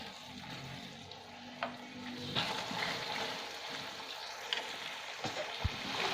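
Tuna simmering in a spiced sauce in a pan gives a steady soft sizzle and bubbling, with a few faint utensil clicks and taps scattered through, all fairly quiet and without talk.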